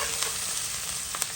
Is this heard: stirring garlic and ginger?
yes